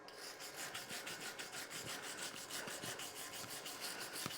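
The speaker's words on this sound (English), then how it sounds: "Brush away the slag when you're done. Use with a hand brush." A hand brush scrubs welding slag off a steel floor pan in steady, rapid back-and-forth rasping strokes, close and fairly loud, with no talking.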